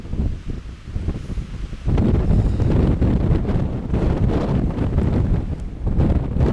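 Strong wind buffets the microphone in heavy, rumbling gusts that grow louder partway through, with a faint rustle behind.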